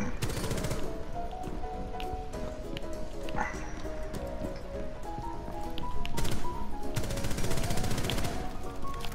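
Gunfire in the video game Rainbow Six Siege rattles in dense bursts over game music and ambience, growing louder near the end, while players talk over it.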